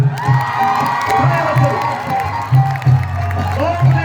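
Audience at a government college festival clapping and cheering, loud whoops and shouts with rhythmic claps in bursts, mixed with an amplified announcer.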